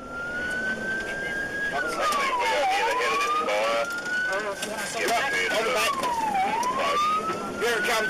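Emergency vehicle siren wailing in long rising and falling sweeps, loud and close, during a fast-moving wildfire heading toward firefighters, with shouting voices and chaotic background noise mixed in.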